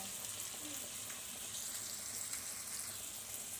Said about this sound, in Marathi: इथं फ्राय होते.